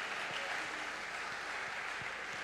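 A church congregation at a worship service applauds, a steady, faint wash of clapping from many hands that continues evenly throughout.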